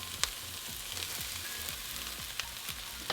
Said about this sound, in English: Onions are sizzling.